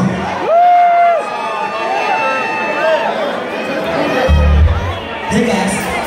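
Concert crowd at the House of Blues in San Diego yelling and cheering the singer's name between songs, loud and close, with scattered shouts and a short burst of low thumps.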